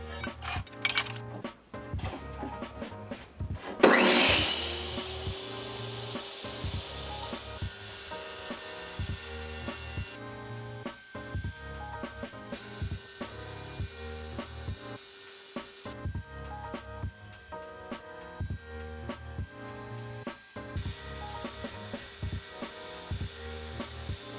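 An IQ Cyclone dustless, waterless tabletop tile saw cross-cuts a 12 by 24 hard porcelain tile. A sharp, loud burst of blade contact is followed by a steady, close motor whine with gritty grinding that holds through the rest of the cut.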